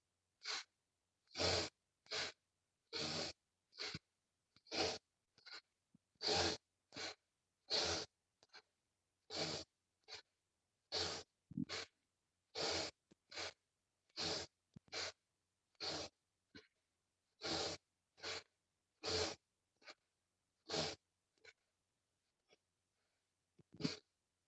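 Sharp breaths during a yoga breathing cycle, about two dozen quick forceful inhales and exhales in a steady rhythm, close and alone with silence between.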